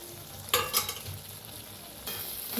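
Cooked potatoes being mixed with curd in a pan, faint background sizzle with a couple of brief spoon clinks and scrapes.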